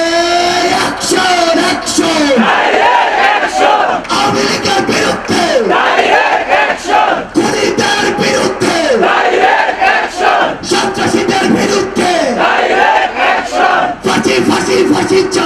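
A large protest crowd near Baitul Mukarram chants slogans together, loud and close, with rhythmic shouted phrases repeating in waves for the whole stretch.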